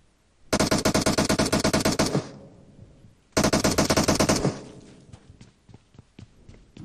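Automatic gunfire in PUBG Mobile on the Miramar map rattles out in two long rapid bursts, loud and close, followed by a run of scattered single shots. No one speaks.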